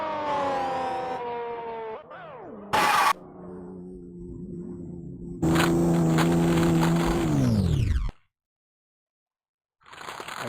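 Grand Prix 2 race car on a 1991 French Grand Prix circuit, engine whine dropping in pitch, a sharp burst of noise, then a loud grinding scrape against a wall that cuts to silence before faint engine sound returns.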